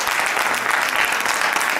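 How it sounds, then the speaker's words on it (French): Audience applause at a Telethon magic show in Auchel, a steady dense wash of many hands clapping throughout, fairly loud and close, with no talk over it. "on peut les applaudir bien fort"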